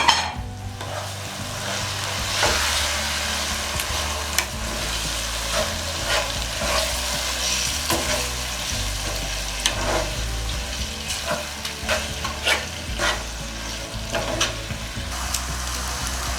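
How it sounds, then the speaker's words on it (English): Freshly blended, already-cooked tomato sauce hits a hot pot of oil for a fish stew and fries steadily, with continuous sizzling and crackle, occasional sharp spatters and stirring scrapes, close and moderately loud throughout. "I'm going to add my fresh tomato now, the one I blended."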